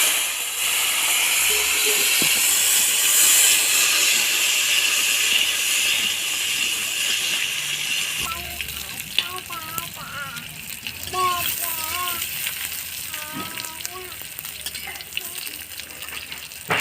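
Potatoes fry in hot oil seasoned with dried chili and whole cumin, giving a loud, steady, close hissing sizzle that later softens while someone talks over it.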